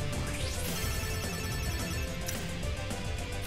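Telephone ringing in a Freedom Planet 2 video game cutscene, a continuous ringtone trilling over dense game music and effects, with no talk.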